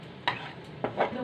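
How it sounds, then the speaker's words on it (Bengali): Chicken sautéing over full flame in a pan, with a couple of quick stirring scrapes and a soft sizzle underneath, close by and brief. "প্রথমে ফুল ফ্লেমে আমি কিছুক্ষণ এটাকে কষিয়ে নিয়ে তারপর ফ্লেম লো করে দিয়ে সেদ্ধ করব।"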